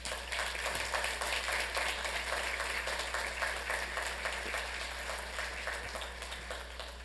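A room full of people at a city council meeting gives a sustained round of applause, steady dense clapping lasting several seconds and slowly tapering, heard over a low hum.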